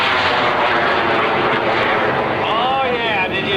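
A Bud Light micro jet powered by a TRS-18 micro-turbo engine flies at an airshow, a loud continuous jet roar with a sweeping pitch shift as it passes, with crowd talk underneath.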